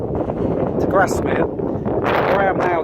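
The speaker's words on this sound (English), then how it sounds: "it's very windy now" Steady wind buffets the microphone with a constant low rumble while someone talks over it outdoors, on a hilltop on the Coast to Coast walk between Ennerdale Forest and Grasmere.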